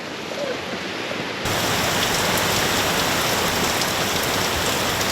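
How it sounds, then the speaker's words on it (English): Heavy rain falls during the wet season near a boat, a dense, steady hiss that rises abruptly after a short quieter opening and then holds constant, with no voices. "It's raining right now, so we're a little depressed,"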